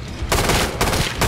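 A Kalashnikov rifle fires in the video game Killing Floor 2: loud, close bursts of automatic fire, three rattling volleys separated by brief gaps.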